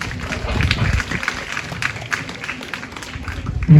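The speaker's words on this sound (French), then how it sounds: "Faut applaudir pour l'APE." An audience claps at an official school student-government ceremony in Fadial, with dense, continuous applause running for about four seconds and a few voices mixed in.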